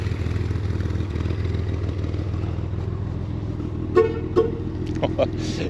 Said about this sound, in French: Il est superbe le klaxon.